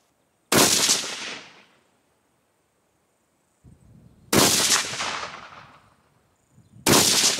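A 6.5 rifle fires fouling shots at a range: three loud, sharp reports spaced a few seconds apart, each ringing out and decaying briefly, with quiet gaps between them.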